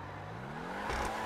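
A sports car engine in Grand Theft Auto V revs up with a faint, steadily rising whine and a slight louder surge near the end.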